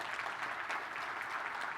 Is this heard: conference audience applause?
yes